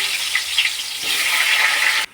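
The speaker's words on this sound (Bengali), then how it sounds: "কুমড়োটা ছেড়ে দিলাম, কুমড়োটা ভাজবো।" Pumpkin pieces fry in hot oil in a wok, a bright, close, continuous sizzle that holds steady for about two seconds and then cuts off abruptly.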